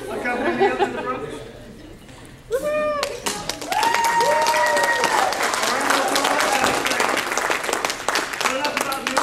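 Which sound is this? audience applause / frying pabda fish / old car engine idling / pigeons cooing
audience applause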